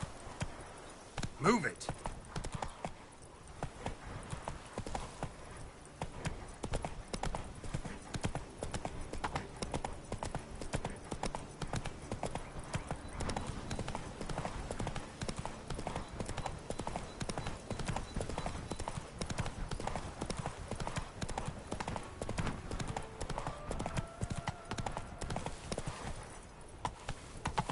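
Roach the horse galloping in The Witcher 3, a fast continuous clip-clop of hooves over the whole stretch, steady and close, with a brief spoken line early on and ambient game sound underneath.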